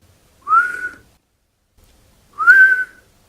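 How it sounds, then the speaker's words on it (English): Breath whistling through a gap in the teeth produces two separate thin, rising whistles, each lasting about half a second, roughly two seconds apart, close and fairly loud with silence between. "I breathed in, and it kind of whistled."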